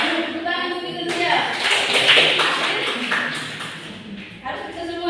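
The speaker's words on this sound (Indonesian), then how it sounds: "Tepuk tangan untuk Indonesia." Classroom applause in an Indonesian English lesson, a burst of clapping from students lasting a few seconds, with voices mixed in underneath and fading toward the end.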